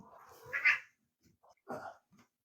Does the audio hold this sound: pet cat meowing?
yes